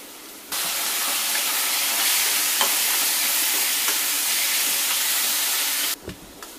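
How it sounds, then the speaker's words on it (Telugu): Steady broadband sizzling and hissing from a hot pan frying fresh coconut and raw mango chutney, continuous for several seconds with faint stirring clicks, then dropping off abruptly near the end. "కొంచెం వేయించుకుందాం, పచ్చివాసన రాకుండా ఉంటుంది."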